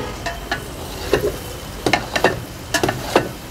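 Onions, tomatoes and potatoes frying in a pan for aloo gobi, with a soft steady sizzle broken by irregular scraping stirs and clinks of a spoon, and no talking.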